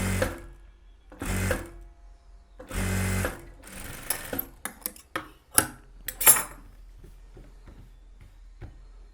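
A sewing machine runs in several short bursts while joining a blouse piping piece, then gives way to scattered clicks and clatter of handling and adjusting, fading to quiet at the end.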